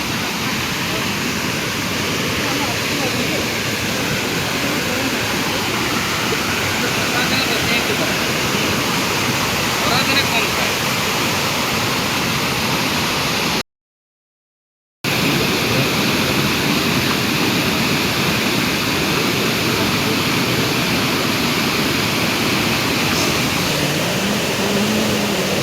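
Loud, steady roar of rushing water from a waterfall in Rourkela, India, broadband and unbroken, briefly cut to silence midway before resuming.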